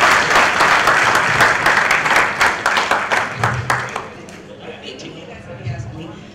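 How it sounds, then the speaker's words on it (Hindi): Audience applause in a convention hall during a Hindi poetry gathering, loud and dense at first, then thinning into scattered individual claps that fade as a faint voice remains. "आप ताली बजा दीजिएगा तो मेरा स्वागत हो जाएगा।"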